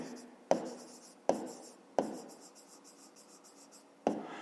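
Handwriting on paper while working a grade 5 maths exercise: a quiet, continuous scratching of pen or pencil, broken by four sharp taps as the writing tool lands or the page is struck.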